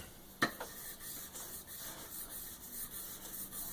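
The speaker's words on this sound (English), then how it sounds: "This is 1000 grit sandpaper." Fine 1000-grit sandpaper rubbed by hand over a part from a Marlin Model 60 rifle, giving a faint, soft scratching hiss in slow repeated strokes with one sharper scrape near the start.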